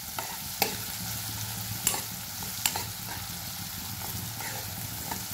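Golden-fried onion with cumin and red chili powder being stirred in a pan, soft steady sizzle under several sharp scraping clicks of the spoon against the pan, close and fairly quiet.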